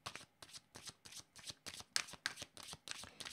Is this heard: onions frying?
no